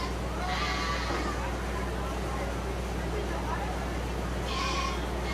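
Goats bleat at a 4-H county fair meat goat show, two distinct calls a few seconds apart, set against a steady hum of show-ring crowd and hall noise.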